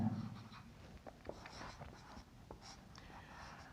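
Numbers are written by hand on paper with a pen, giving quiet, intermittent scratching strokes up close in an otherwise calm room.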